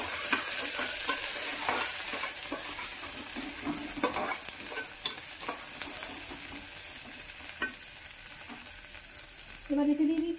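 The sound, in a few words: stirring white coriander powder into frying food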